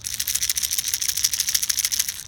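A rapid, dense rattling of small beads clicking inside an LV 500 lipless crankbait lure, shaken steadily and continuously at close range.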